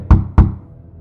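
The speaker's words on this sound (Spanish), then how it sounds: "cuando de momento escuchan que alguien toca la puerta de su habitación" Two loud, close knocks strike a bedroom door at night, hollow thuds spaced a fraction of a second apart, then fading into quiet.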